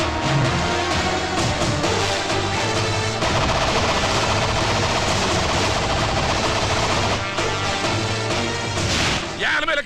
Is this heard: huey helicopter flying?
no